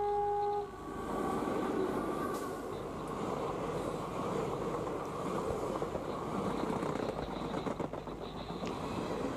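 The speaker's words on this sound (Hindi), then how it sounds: "नया ही लोकोमोटिव है।" A new Indian Railways locomotive passes, opening with a brief horn toot and then a sustained, loud rumble and clatter of rolling wagons.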